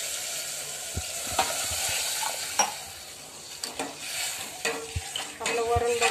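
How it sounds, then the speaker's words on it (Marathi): Water poured into dal in a hot pan, set against a busy close sizzle with repeated stirring knocks of a spoon on the pan, building louder toward the end. "त्यात थोडं पाणी टाकते"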